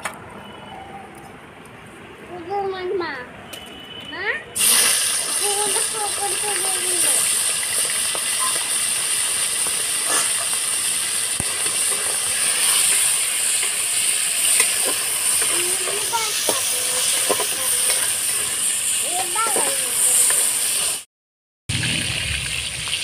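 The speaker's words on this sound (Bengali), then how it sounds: "মাছটা বেছে ধুয়ে লবণ মাখিয়ে রেখেছিলাম, হলুদ মাখিয়ে, এবার ভেজে নেব" Prawns coated in turmeric and salt frying in a pan, a loud hissing sizzle that bursts in after a quieter start with a few faint voices, then holds steady and close until a brief dropout near the end.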